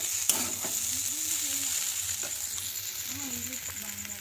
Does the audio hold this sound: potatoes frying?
yes